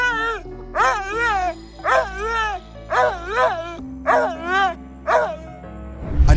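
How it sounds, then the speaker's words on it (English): An old dog barks in excitement, giving about seven rhythmic bursts of loud, close, yelping barks with short pauses between them and a faint background hum. "He begins to bark in excitement as Rachel pets it."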